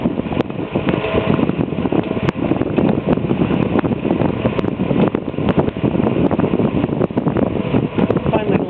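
Vintage Eskimo 12-inch electric fan, blades slightly out of alignment, running on medium speed: a close, steady whirring rush like wind with a faint rattling vibration, unbroken throughout.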